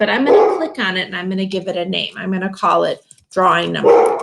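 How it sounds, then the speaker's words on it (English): A pet dog barks a few times indoors, the short yips buried under continuous close talking. "That's my dog. He doesn't know who I'm talking to."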